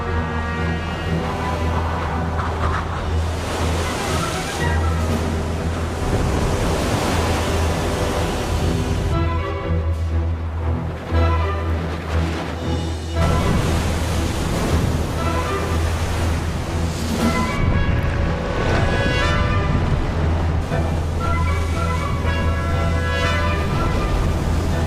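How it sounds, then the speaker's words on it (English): Storm winds driving enormous ocean waves: loud, continuous roaring surf with repeated surging crashes and gusty wind noise, no voices. "Huge storms, fed by all this warm, shallow water, produce high winds and enormous waves."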